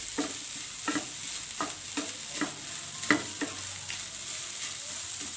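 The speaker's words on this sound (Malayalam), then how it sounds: "ഇതിലേക്ക് നമുക്ക് 1 കപ്പ് തേങ്ങ ആഡ് ചെയ്ത് കൊടുക്കാം. നന്നായിട്ടൊന്ന് മിക്സ് ചെയ്യുക." Coconut being stirred and roasted with raisins in a pan for oats laddu gives a steady soft sizzle, broken by repeated scraping strokes of a spoon about every half second, close and fairly even throughout.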